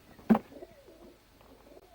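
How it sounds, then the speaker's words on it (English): A pigeon gives one short, fairly close coo near the start, followed by softer, faint cooing murmurs in an otherwise quiet garden setting. "No more pigeons."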